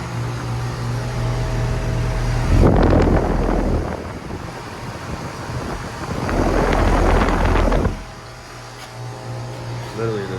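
A 2014 GMC 5-ton 13 SEER air conditioner unit in a parking garage runs with a steady low mechanical hum, swelling into two louder, broadband rushing bursts of fan air.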